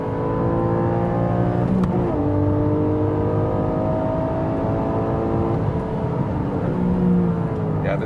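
A Porsche 911 engine drones steadily under load, its pitch climbing and then dropping sharply at several double-clutch gear shifts, heard from inside the car with a loud, continuous tone.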